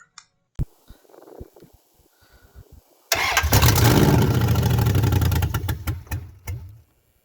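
A 5.7 Hemi engine in a 1965 Ford F100 truck, started with ether: a few clicks and scattered knocks, then the engine fires and runs loudly with a rough rumble for a few seconds before shutting down.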